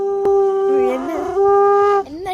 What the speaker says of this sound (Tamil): சர்ப்ரைசிங்காக சங்கில் சவுண்டு வந்துருச்சு.